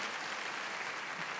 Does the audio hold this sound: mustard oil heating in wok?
no